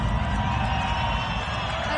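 Crowd at a Red Bull Batalla Colombia 2022 quarterfinal rap battle cheering and applauding, a dense, steady wall of noise with whoops throughout the two seconds.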